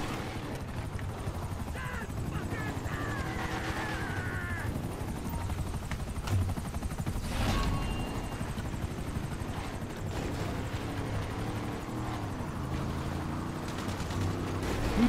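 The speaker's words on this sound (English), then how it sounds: "Helicopters are inbound." Helicopter rotors thump steadily throughout in GTA Online, joined by game sound effects, bird caws and occasional bursts of gunfire, with faint voices mixed in.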